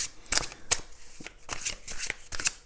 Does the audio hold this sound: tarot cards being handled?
yes